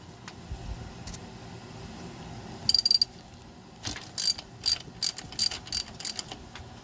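A socket ratchet on a 3-inch extension loosens 10mm bolts on a 1996 Jeep Cherokee Sport engine, with several quick bursts of close, crisp clicking separated by pauses and light handling noise.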